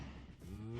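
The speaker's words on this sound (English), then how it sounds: "It's a red freaking cow with mushrooms on it back." A mooshroom, the red mushroom-covered cow from the video game Minecraft, gives a low drawn-out moo, clear and close, with a brief break before the call swells again.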